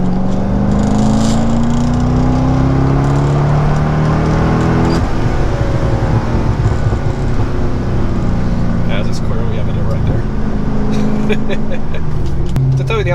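A lowered car's engine drops a gear and revs, its rising drone shifting midway as it pulls away hard, loud and close throughout with steady road and engine noise.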